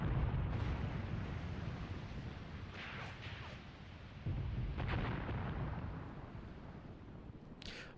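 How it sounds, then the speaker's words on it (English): Artillery shelling a town in Gravi Team Tactics: Mius Front, distant booming impacts and rumbling blasts over a continuous low battlefield roar, a sharper crack near the end. "Is this artillery fire coming in? Yeah, more artillery on the town."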